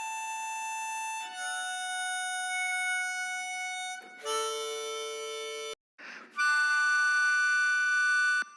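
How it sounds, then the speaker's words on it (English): A harmonica recorded pitched up a semitone, playing sustained bright reedy notes in several separate held phrases with short breaks between them, close and fairly loud with no voices. "So when I recorded it, it actually sounded like this."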